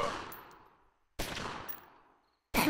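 Video game gunfire in three loud bursts, each a sharp blast with a decaying rattling tail, separated by brief silences, heard alone without talk.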